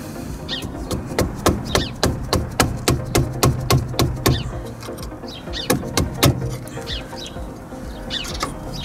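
A hammer drives a screwdriver against a car part near the ABS line, a steady series of sharp metallic strikes at a regular rhythm, close and loud, pausing briefly before resuming.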